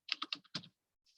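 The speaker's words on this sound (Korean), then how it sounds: "다 타이핑 하실 필요 없이 몇 글자만 치시고 컨트롤 스페이스" Quick bursts of typing on a computer keyboard, about six rapid keystrokes close together, then a pause and one faint final tap. The keys sound quiet and close, with no talking.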